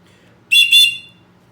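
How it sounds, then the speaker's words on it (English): A shrill, piercing survival whistle from a Gerber Bear Grylls survival kit sounds in two quick back-to-back blasts, loud and close, then fades, with no talking. "you just have a generic whistle. I'm gonna give this thing a blow real quick."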